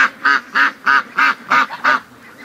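Free-range ducks quack loudly and close by in six evenly spaced, strong calls, with geese nearby, and no talking over the calls.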